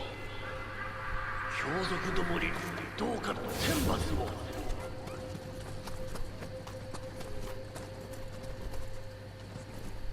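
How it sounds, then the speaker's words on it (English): Galloping hooves of a horse enemy in the Nioh 2 video game, a busy clip-clop run mixed with game effects and a low steady hum, fairly loud through the stretch with a surge of impact noise partway. "this is the horse enemy"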